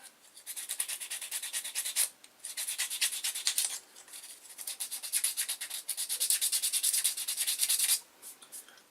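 Fine sandpaper rubs back and forth on a hard fishing lure in close, rhythmic bursts of scratchy strokes, separated by short pauses.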